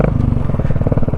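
A Royal Enfield Bullet 350 with a modified silencer exhaust idles close by with a loud, steady thump of rapid, even low pulses and no voices.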